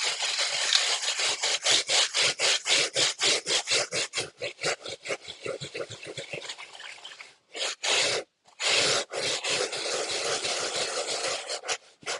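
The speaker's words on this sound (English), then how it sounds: "So we're using the brass bristle brush." A brass bristle brush scrubs gum rubber shoe soles in fast, steady back-and-forth strokes, loud and close, slowing later with a few brief pauses.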